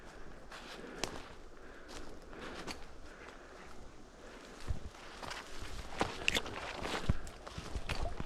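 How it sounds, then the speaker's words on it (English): Footsteps crunch steadily through the woods while hunting with a baying dog on the Klutina River, fairly close and irregular, with a few sharper snaps of brush and twigs underfoot. "I hear footsteps."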